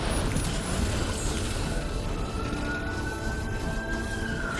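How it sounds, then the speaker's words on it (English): Sirens wail faintly in the distance, a long rising and falling tone drifting over steady low traffic rumble and background noise. "sorry if you guys can hear the sirens outside"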